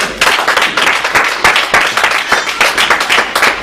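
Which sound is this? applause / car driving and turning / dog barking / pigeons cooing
applause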